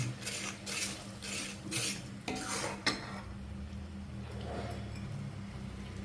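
A spoon scrapes and clinks around a metal pot of sweet cowpea (karamani) payasam in repeated stirring strokes, close by, over a steady low hum of a stove on low flame.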